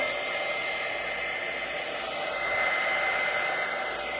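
A heat tool blows a steady, loud whir over a watercolor wash on paper, a continuous airy hum that holds unchanged from start to end with no talking.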